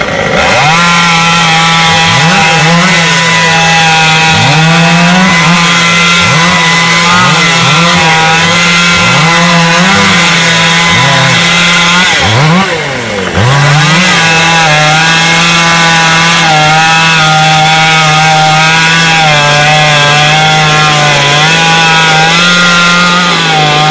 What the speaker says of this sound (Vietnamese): cưa cho gọn gọn nhánh.